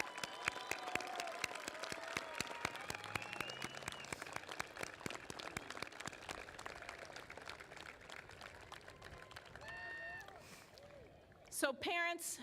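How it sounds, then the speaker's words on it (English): An audience at a college commencement ceremony applauds graduates' family members, dense clapping that fades over several seconds beneath a voice speaking over it. "seniors, give them a round of applause"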